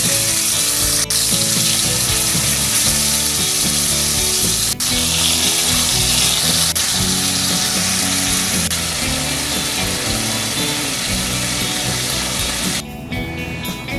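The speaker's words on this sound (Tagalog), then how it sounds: "Okay, na-serve at fried na natin itong ating pork tapa." Pork loin tapa fries steadily in a pan, giving an even, close sizzle with faint clinks and scrapes, and a brief rattling clatter near the end.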